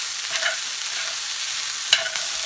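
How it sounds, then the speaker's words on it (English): Eggs stirred in a frying pan, a soft steady scrape and sizzle with two brief clinks of the utensil against the pan, close and alone without talk. "I'm going to add these eggs back in and mix them up real good."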